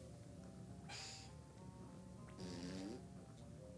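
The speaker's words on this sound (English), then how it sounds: "That's fart." A pair of fart sound effects from the Donkey Kong 64 video game, each a brief buzzy burst over steady game background, with no one talking.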